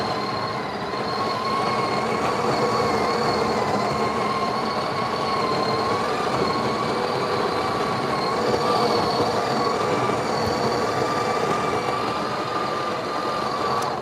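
A conical burr coffee grinder runs continuously, a steady whirring motor with a high, even whine that holds for the whole stretch.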